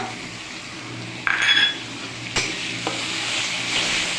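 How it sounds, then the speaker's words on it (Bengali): Onions fry in a pan with a steady close sizzle, broken by a spoon clinking and scraping as it stirs them, and a brief louder burst of hissing partway through. "তারপরে একটু আমি পেঁয়াজ দিয়ে নিলাম, পেঁয়াজ দিয়ে একটু নাড়াচাড়া করছি।"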